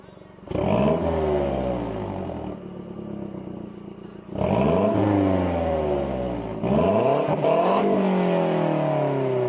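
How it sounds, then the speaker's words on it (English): Mazdaspeed 3 with performance mufflers and the resonator deleted, revved three times in loud, close bursts, each climbing sharply and falling back with a raspy exhaust note, short idle gaps between. "it makes the car sound a heck of a lot louder"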